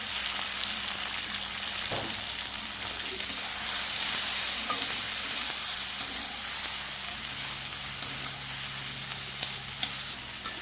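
Poppy seed and cumin paste frying and being stirred in a pan while cooking a Bengali prawn malai curry, a steady soft sizzle running throughout with faint scraping from the stirring and no talk.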